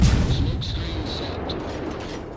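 Naval guns fire in World of Warships, opening with a loud, deep boom that settles into a heavy rumbling roar lasting a couple of seconds, with no voices clearly standing out.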